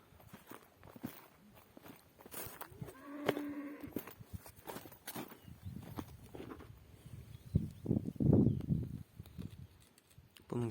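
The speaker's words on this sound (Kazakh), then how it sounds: "Осы жерде біраз сиырлар бар" Cattle low in an open pasture near a well, with one nearby cow giving a deep, drawn-out moo and other faint calls around it, mixed with footsteps and rustling at a moderate distance.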